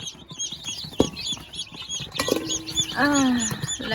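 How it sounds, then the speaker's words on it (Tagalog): Native heritage chickens clucking and chirping nearby in a busy flock, with a rising drawn-out call near the end, wing flaps and scratchy movement under steady background noise. "Native, heritage chicken"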